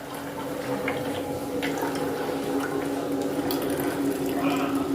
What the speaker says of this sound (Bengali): আমি এখন এই বোতলে জলটা ভরে নেবো